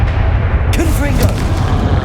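A Confringo fire spell bursts in Hogwarts Legacy combat with booming, artillery-like impacts over a steady loud rumble of battle noise, and a voice speaks briefly amid it.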